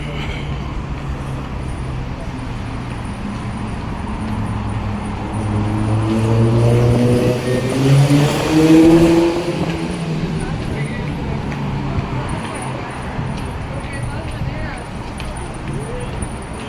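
Waymo self-driving cars passing on a downtown Austin street, a rising and falling tire and motor whoosh that swells past the listener midway, heard over steady city background with people talking nearby.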